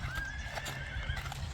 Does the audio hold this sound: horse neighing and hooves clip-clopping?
yes